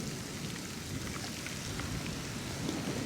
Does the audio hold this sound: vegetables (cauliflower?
no